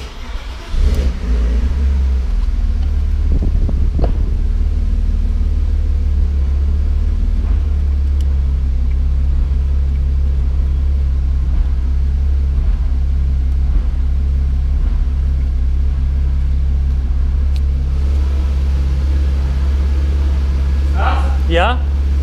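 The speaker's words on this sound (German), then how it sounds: "machst den ersten Gang mal rein und lässt immer die Kupplung aus ein bisschen springen" A BMW with an N52B25 engine and a rear-axle problem runs with a steady, low, close idle drone as it is eased off in first gear, with only slight rises in revs. People talk over the engine throughout.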